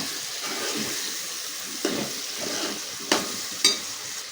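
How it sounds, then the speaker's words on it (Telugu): Capsicum and tomatoes frying in oil with ginger for a chicken curry, a steady close sizzle broken by three sharp scraping stirs of a spoon in the pan. "ఇందులోనే క్యాప్సికమ్ టమాటాలు కూడా వేసుకున్నాం కదండి, ఒకసారి కలుపుకుందాం"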